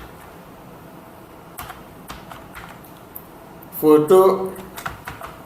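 A computer keyboard typed into a search bar, light scattered keystrokes heard beneath someone speaking French, with a brief louder burst near the end.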